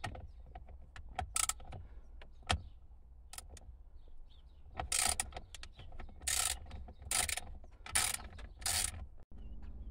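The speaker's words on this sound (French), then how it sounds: "on va dévisser les 4 vis de chaque coin" A 7 mm socket ratchet unscrewing the corner screws of a Uconnect 8.4 radio in a Jeep Grand Cherokee SRT, with rapid clicking ratchet bursts of varying length over a steady low background hum, close up.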